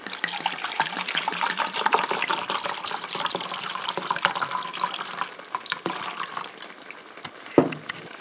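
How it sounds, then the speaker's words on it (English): Half a cup of water poured into a cooking pot of braised short ribs, a close, steady splashing trickle that runs for several seconds, then tapers off, ending with one sharper clunk. "I'm going to add a half a cup of water in there."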